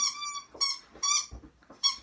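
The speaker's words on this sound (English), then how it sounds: "the dog's driving me mad squeaking his toy" High, squeaky toy squeaks from a dog chewing its toy indoors, several sharp harmonic squeals in quick succession with short gaps, fairly close and alone.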